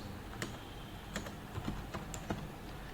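Someone types on a computer keyboard during a data-entry task, tapping irregular quiet keystrokes in short clusters against a faint background.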